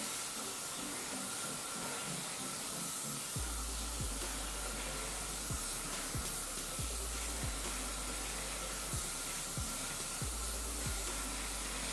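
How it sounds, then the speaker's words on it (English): Elnett hairspray hisses in a steady, continuous spray onto hair, with faint low thumps and handling noise beneath it, no talking. "I just cover it up with lots of hairspray. This is Elnette, like the classic."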